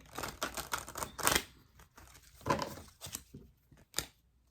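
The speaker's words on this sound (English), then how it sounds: "as I shuffle, a lot of the same cards coming out" Tarot cards shuffled by hand in a run of crisp papery riffles and slaps, loud at first, then softer scattered taps and flicks close up with no talking.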